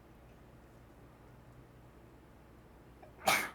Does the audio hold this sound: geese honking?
no